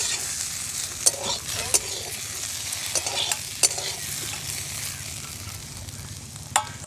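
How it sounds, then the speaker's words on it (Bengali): Okra and other food fry in a pan and are stirred, giving a steady close sizzle with periodic sharp scraping strokes of a spatula at irregular intervals, with no talk. "দু 3 মিনিট ধরে নেড়ে চেড়ে ভেজে নিতে হবে।"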